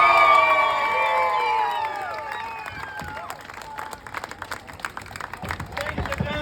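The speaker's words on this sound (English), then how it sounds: "Big round of applause when the jacket hits the ground." A street-show crowd on Dublin's Stephen's Green cheers and whoops loudly, then breaks into a dense burst of clapping that grows choppier as it goes on, with some voices mixed in.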